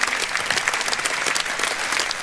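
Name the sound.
round of applause for the candidates at a rally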